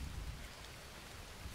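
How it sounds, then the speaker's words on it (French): Rain falls in the jungle survival game Green Hell as a steady, soft wash of drops with faint low rumbles, continuous and without talk. "Par contre il pleut là."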